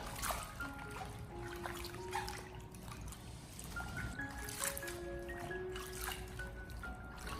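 Water trickles and drips as Shanghai bok choy is rinsed and left to drain in a kitchen, a faint continuous dribble with small splashes and clinks throughout.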